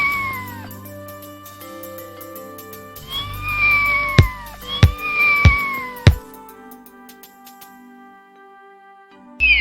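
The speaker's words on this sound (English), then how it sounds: "C is for cat." A cat meowing repeatedly, several loud, clear, drawn-out meows close up, with a few sharp percussive hits mixed in among them.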